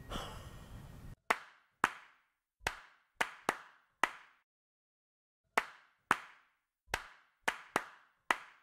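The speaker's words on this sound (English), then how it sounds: "you're clapping all over the place" Single sharp hand claps, about fourteen of them, spaced irregularly with a long pause midway, close and loud against silence.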